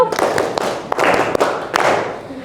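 Students in an Indonesian classroom perform a clap-once call-and-response, producing a few sharp, near claps and thuds spread over a couple of seconds, with some loose overlapping hand sounds.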